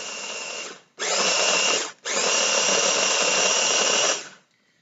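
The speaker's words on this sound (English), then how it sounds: "in this container are just old-fashioned Quaker oats inside of a Ninja. So it's I just make my own oat flour." A Ninja blender grinds old-fashioned Quaker oats into flour, a loud, steady high-pitched whir in three bursts separated by two brief pauses, then it stops abruptly.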